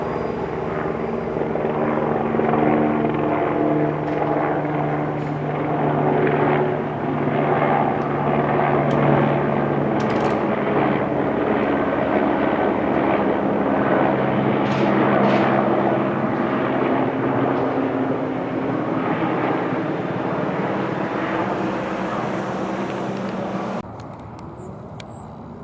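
An airplane passing overhead gives off a loud, sustained engine drone and rumble that holds steady for about twenty-five seconds, then drops off slightly near the end.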